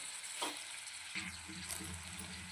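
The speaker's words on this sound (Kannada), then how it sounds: "ಬೆಂಡೆಕಾಯಿ ಎಲ್ಲ ಚೆನ್ನಾಗಿ ಒಗ್ಗರಣೆಯಲ್ಲಿ ಮಿಕ್ಸ್ ಮಾಡ್ಕೋಬೇಕು ಈ ರೀತಿ" Okra stirred and fried in a spice tempering for a palya: soft sizzling with scraping stir strokes, close and steady, no talking.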